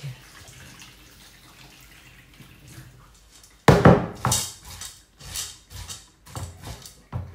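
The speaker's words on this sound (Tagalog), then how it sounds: "Tapos, itatapon na ninyo ang tubig." Soaking water poured off swollen mung beans in a kitchen, a sudden splashy gush after a quiet start, followed by several shorter sloshing pours and drips, close by with no talk.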